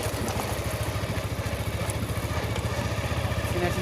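A motorcycle engine runs steadily while riding, a close, loud, continuous throbbing rumble with a regular pulsing beat and no pauses.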